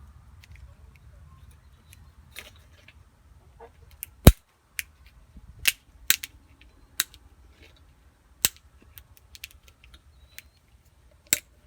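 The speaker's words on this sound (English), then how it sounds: "These wire cutters can do it. So I'm gonna cut about that much off." Wire cutters cut through truck turn signal wire during a turn signal install on a 1985 White/Volvo/GMC truck, giving several sharp, close snips and clicks spread over a quiet background.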